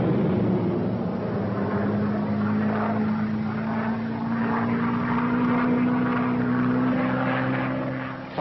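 World War II fighter planes and B-25 bombers attacking Japanese shipping: a steady, loud propeller-engine drone holds throughout with a sustained low hum and no speech.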